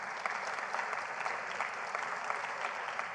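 A crowd at a mayors' summit claps steadily for a few seconds, a dense, even patter of many hands without any voices.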